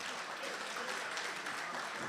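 Audience applause at a poetry gathering, a steady even wash of clapping hands that holds at a moderate level throughout, with no speech over it.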